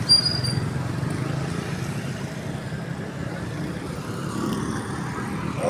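Road traffic near a Walter Mart in the Philippines, backed up by an accident, with a single motorcycle and a motorized tricycle nearby: a steady low rumble of idling and slowly moving engines, continuous and moderately loud, with no talk.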